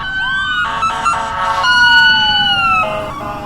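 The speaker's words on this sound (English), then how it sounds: "You just heard the ambulance go by." Ambulance siren sweeping past, a loud wailing tone that rises and falls over steady traffic rumble, with a brief warbling burst in the middle and the pitch dropping as the vehicle moves away.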